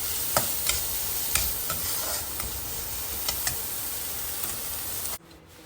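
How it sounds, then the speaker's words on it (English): Chopped green pepper and beans sauté in a pan with a steady close sizzle and a few light spatula clicks, cutting off abruptly at the end. "And then just saute it for 2 minutes."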